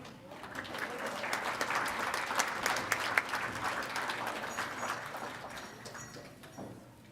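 Applause for Indigenous graduates at a spring university graduation celebration, a steady crowd clapping that builds quickly, holds for several seconds and tapers off toward the end, with no talking over it.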